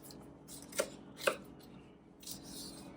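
Fresh garlic is cut on a board in a quiet kitchen, with two distinct knife chops followed by softer scraping and faint cutting sounds.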